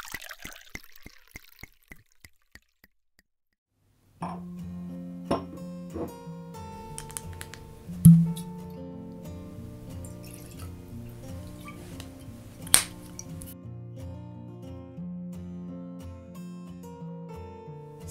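Whisky, a Glentauchers 25-year Distillery Collection bottling, is poured into a glass at home: soft liquid trickling and gentle glugs, with occasional clinks and taps of glass, quiet and close, without speech.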